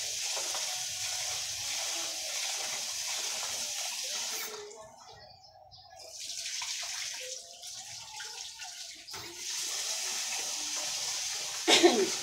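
Hot water runs and splashes steadily from a tap into a tub, briefly easing off midway before gushing again, close by with no talking.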